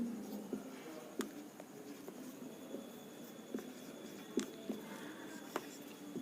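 Faint writing on a board during a lesson on matrices, with irregular soft taps and strokes over a quiet, hissy room.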